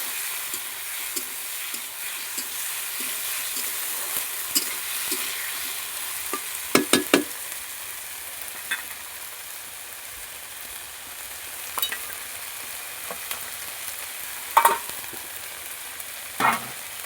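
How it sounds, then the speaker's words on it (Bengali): Spice paste of onion, chopped tomato, green chilli, cumin and ginger-garlic sizzling in a pan, a steady close hiss with occasional scraping stirs and a few sharper clanks of the spoon. "ভালো করে মশলাটা এরকম কষিয়ে নেব"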